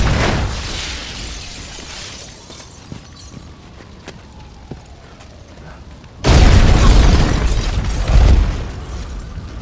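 Explosions from the Daredevil series: after a quieter stretch of mechanical creaks, a sudden massive blast erupts into a loud, sustained roaring rumble with a second surge near the end.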